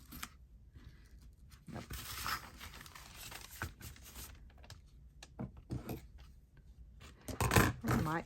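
Paper straw wrapping is torn and crinkled off book pages while preparing a journal, giving soft, close rustling and ripping with a few sharper crackles toward the end.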